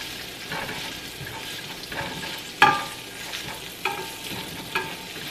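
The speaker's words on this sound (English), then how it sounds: "This is what the sausage is looking like that I fry up," Beef sausage fries in a pan, a steady sizzle broken by repeated scraping knocks and clatters as the pieces are tossed around, close and fairly loud.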